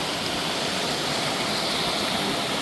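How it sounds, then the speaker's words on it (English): Steady rushing water from a mountain stream on the Appalachian Trail fills the scene, a continuous broadband wash like a lively stream or small cascade, close and unbroken with no voices. "The water's really flowing today."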